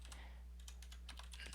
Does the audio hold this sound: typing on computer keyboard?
yes